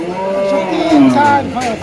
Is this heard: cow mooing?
yes